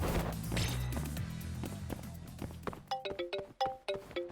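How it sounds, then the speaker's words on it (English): Phone ringtone in the video game Judgment, a sequence of short bright electronic chimes in a clear rhythmic pattern that follows a stretch of game noise and thuds. "there's a phone call"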